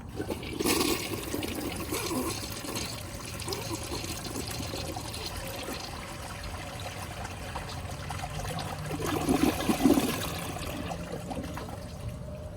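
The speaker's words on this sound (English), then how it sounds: "See how it does with a flush." A Briggs Beautyware toilet flushes with a sharp start, then a long swirling rush and trickle of water as the bowl drains and refills, close and steady, with no one talking.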